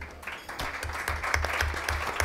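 Applause from a conference audience at a social forum, a brief burst of clapping with a pulsing, uneven rhythm, fairly close and loud.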